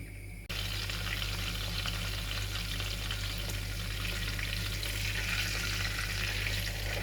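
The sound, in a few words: kyufta with bulgur frying in a covered pan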